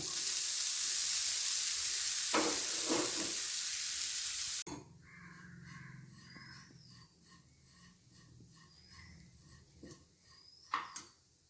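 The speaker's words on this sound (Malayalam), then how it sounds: "1 കപ്പ് തേങ്ങാപ്പീര എടുത്തിട്ടുണ്ട്. നമുക്കൊരു പാനിലിട്ട് അതൊന്ന് വറുത്തെടുക്കാം." A cup of grated coconut dry roasts in a pan for Kerala fish curry, giving a loud, steady sizzling hiss for a few seconds. The sound then drops to a quiet background broken by light scraping clicks.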